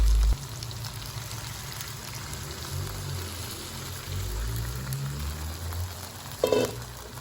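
Thin coconut milk poured into meat simmering for Padang-style gulai cincang, giving a steady soft bubbling and sizzling hiss close by, with a brief louder splash near the end.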